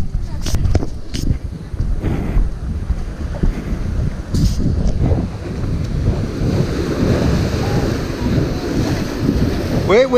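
Rough ocean waves crash and rumble close by at Bolinas beach under strong gusting wind, with brief voices and thumps mixed into the steady roar.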